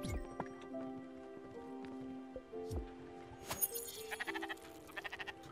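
Sheep bleat in the farming game Spiritfarer, a few short cries over soft rain and a steady game background tone, with a quick run of pulsing bleats toward the end.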